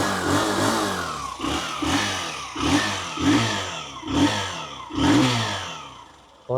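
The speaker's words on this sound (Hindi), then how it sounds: "आइए अब मैं आपको इंजन साउंड सुनाता हूँ," A Honda Shine motorcycle engine revs in a steady series of about seven quick throttle blips, loud and close, its exhaust note rising and falling with each blip and no talk over it.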